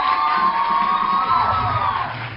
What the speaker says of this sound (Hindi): प्लीज शराज के लिए तालियां